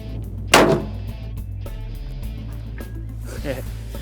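A Gunwerks LRM 500 muzzleloader fires once at a 500-yard target in open country, a single sharp crack with a short fading tail over a quiet outdoor background.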